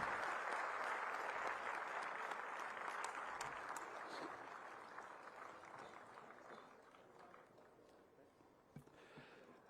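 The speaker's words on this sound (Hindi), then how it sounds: "तो अब आपकी तालियों की आवाज उसकी गूंज आनी चाहिए देवियों सज्जनों।" Audience applause at a Haryana swearing-in ceremony for newly elected municipal mayors and members, a dense sustained clapping that starts loud and gradually fades over several seconds.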